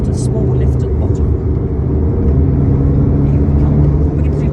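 A Volkswagen Golf GTI Mk8 engine drones loud and steady from inside the car on the Nürburgring, a constant close roar with road noise, while a person talks over it.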